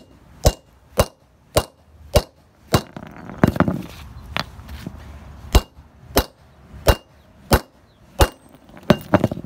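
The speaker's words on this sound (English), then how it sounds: "it took many hits in order to remove this" Repeated sharp metallic hammer strikes on a stuck nut, about fourteen evenly spaced ringing blows, close and loud, with a brief scraping, grinding stretch partway through and no talking.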